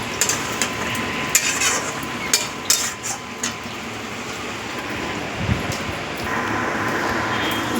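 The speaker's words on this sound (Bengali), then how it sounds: "এবার আমি এর মধ্যে হলুদ, সামান্য একটু লঙ্কার গুঁড়ো দিয়ে ভালো করে" Turmeric and chili powder being fried and stirred in a pan, with steady sizzling and scattered sharp scrapes and clanks of a spoon against the pan.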